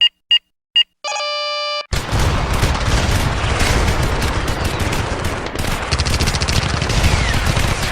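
Turret fire in the space combat game Star Citizen: after a few short beeps and a rising electronic tone, loud rapid automatic shooting erupts and roars on continuously, dense and close.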